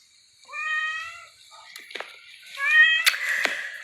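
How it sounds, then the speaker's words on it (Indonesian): A village cat meows twice, with drawn-out, rising calls, close and clear. Short clicks and scuffs fall between the cries. "Padahal ini kucing kampung."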